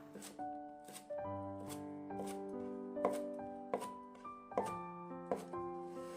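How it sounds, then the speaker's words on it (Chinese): A knife chops washed cilantro into sections on a cutting board, giving about eight crisp, evenly spaced taps in a steady rhythm, close and clear under soft background music. "给它切成段"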